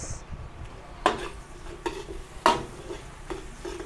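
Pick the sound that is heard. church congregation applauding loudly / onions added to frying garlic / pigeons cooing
onions added to frying garlic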